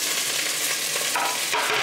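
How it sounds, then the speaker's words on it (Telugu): Vegetables and tomatoes fry in a pan with a dense, continuous sizzle and crackle, loud and close, with faint stirring and no voices. "వేసుకొని చక్కగా మంచిగా వేగనివ్వాలి"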